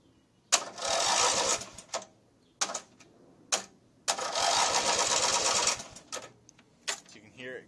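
A Briggs & Stratton opposed twin engine, freshly rebuilt, cranks over in two long bursts of rapid rhythmic chugging from the starter, separated by short clicks and pauses, close and fairly loud.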